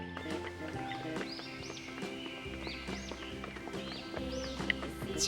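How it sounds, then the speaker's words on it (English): A horse whinnies and snorts over hoof clip-clops, with faint birdsong and a gentle musical backing. "H for horse."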